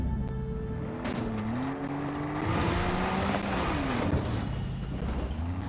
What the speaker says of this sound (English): I'm having a little trouble driving the car